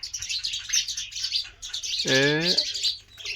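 Birds fighting over nest building chirp in quick, high bursts, and one longer, rising call cuts in near the middle; the calls are fairly close against a quiet background.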